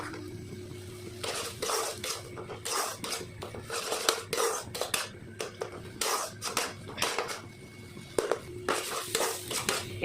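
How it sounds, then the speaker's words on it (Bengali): A spiced stuffing for pointed gourd is sautéed dry in a pan, with repeated scraping strokes of a spatula against the metal in an uneven rhythm over low background hiss. "এটাকে ভালো মতো কষাতে হবে আর একদম ড্রাই করে নিতে হবে"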